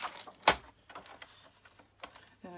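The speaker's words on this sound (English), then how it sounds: "Okay, paper trimmer," A paper trimmer with a dull blade slices paper in one sharp, close crunching swipe, followed by quieter scattered taps and shuffling of paper and a short ratcheting rasp near the end.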